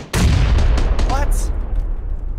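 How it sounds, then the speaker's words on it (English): Gunfire in the video game PUBG during a fight in Pochinki, a quick loud burst of several sharp shots followed by a fading, echoing tail. "He's shooting at me right now."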